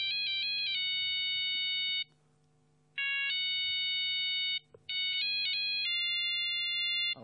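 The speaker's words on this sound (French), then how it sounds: "another ring." A bright electronic phone ringtone plays a repeating melodic phrase loudly on a game show, breaking off briefly twice before starting again over a faint low hum.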